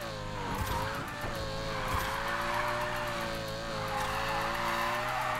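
A car drifting in the Need for Speed Payback racing game: a long, loud, wavering tire squeal rides over a sustained engine roar throughout, close and continuous, with no talking.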